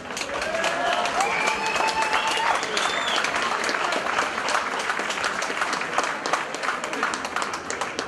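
A crowd at a combat sports fight gives sustained applause with clapping and cheering, loud and dense throughout, with faint shouts mixed in.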